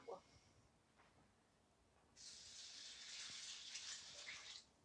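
Filtered water is poured from a container into a pot of unwashed rice and butter for rice pudding, a steady splashing gush lasting about two and a half seconds after brief quiet clatter.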